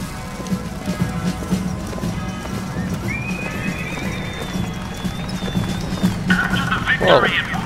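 Hooves of a robotic horse in the video game Bioshock Infinite clop over a busy background while it whinnies with a thin, drawn-out mechanical tone, followed by a second, shakier neigh.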